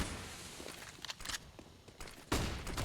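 Gunfire in Counter-Strike on the Inferno map during a G2 versus BIG match, scattered muffled shots and a heavier burst near the end, fairly faint against background noise.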